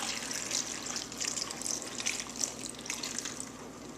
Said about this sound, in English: And then you also add 1 quart of white distilled vinegar. Just going to pour that into the container.